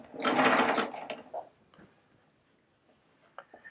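A Baby Lock Triumph sewing machine stitches a curve, giving a loud, close burst of fast whirring for about a second, then trailing off into soft ticks and faint mechanical clicks.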